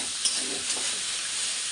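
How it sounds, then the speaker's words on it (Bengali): Potato, pumpkin and eggplant fry in a pan while being stirred, giving a steady close sizzle with soft scraping of the stirring running through the whole stretch. "এবার এটাও কিছুক্ষণ ভেজে ভেজে নেব।"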